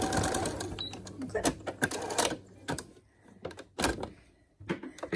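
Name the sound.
sewing machine stitching face mask headband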